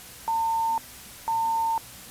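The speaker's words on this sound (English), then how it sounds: "UVB-76, known among radio enthusiasts as the buzzer" The UVB-76 shortwave radio station buzzer signal: two clean, identical half-second tones, one per second, over a faint hiss of static.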